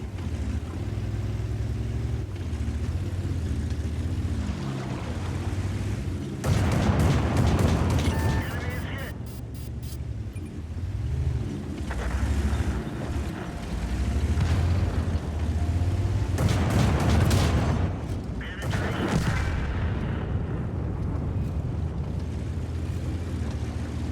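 Autocannon fire from an Ares 75 tank in a video game, heavy bursts of rapid booming shots over a rumbling engine drone, with a person talking throughout.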